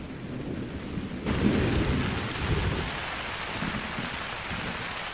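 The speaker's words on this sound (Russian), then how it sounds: "Как же ливень-то сильно бьет" Heavy rain pours down in theHunter: Call of the Wild, a dense constant hiss with a low rumble of thunder swelling briefly near the start, no voices.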